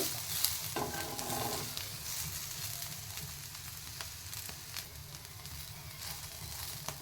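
Cluster beans (chavalekai) frying in oil in a pan for a North Karnataka palya, giving a steady close sizzle with occasional stirring scrapes throughout, no talk.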